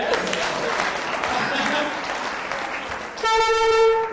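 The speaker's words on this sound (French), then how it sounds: "Applaudissez pour elle" Sustained audience applause at a debate rolls on for several seconds, then a loud, steady horn-like tone cuts in near the end over the fading clapping.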